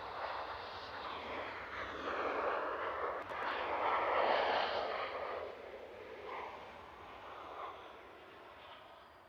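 A Ryanair Boeing 737-800 rolls out on runway 23 at Manchester Airport after landing, its distant, fairly faint jet roar swelling to a peak midway and then gradually fading.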